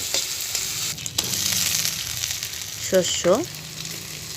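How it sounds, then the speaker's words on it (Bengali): Ginger, garlic and onion paste fries in a pan of oil used for frying fish, a steady close sizzle with stirring scrapes, while a voice briefly speaks over it. "ভালো করে কষিয়ে নেব যাতে কাঁচা গন্ধটা থাকে না।"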